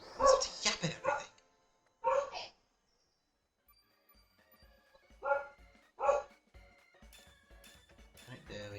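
Several sharp dog barks come in short bursts, a few loud yaps near the start and more around the middle, separated by quiet gaps. A faint background bed follows.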